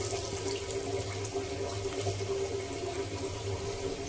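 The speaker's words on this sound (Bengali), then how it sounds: "তো এবার আমি এইভাবে সব বড়াগুলো ভেজে নেব।" Prawn fritters with plenty of onion fry in hot oil, a continuous dense sizzle and crackle, close and steady throughout with no voices.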